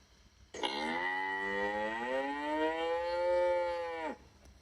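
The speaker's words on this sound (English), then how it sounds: "I choose this cow mooing and you can play it here" Cow moo played as an alarm sound from the Classroom Screen web tool, one long, loud, drawn-out lowing call that holds steady for about three and a half seconds and then stops abruptly.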